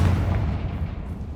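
A Confringo fire spell explodes in Hogwarts Legacy, a deep, rumbling boom that stays loud and dense across the whole short moment, with no voices over it.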